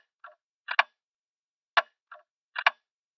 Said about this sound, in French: Un truc d'horloge pour faire passer le temps.